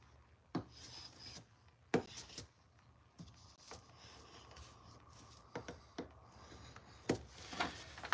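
A sanded wooden stake, vampire-hunter style, is being cut by hand: quiet, rasping strokes of wood against blade, broken by a handful of sharp clicks and knocks at irregular intervals in an otherwise hushed room.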